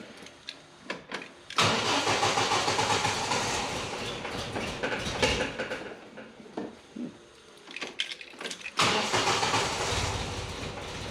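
A Land Rover Ninety engine cranks over and catches with a little choke, settling into a loud, steady idle close by, with a brief stall and restart part way through before it runs again.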